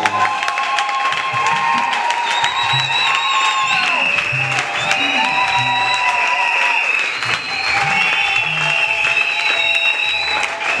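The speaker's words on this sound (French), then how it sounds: "Acclamons pour le Seigneur." Congregation at a church consecration service applauding and cheering, a dense continuous wall of clapping with scattered voices mixed in, steady and loud throughout.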